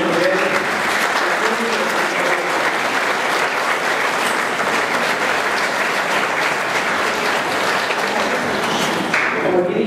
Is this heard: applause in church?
yes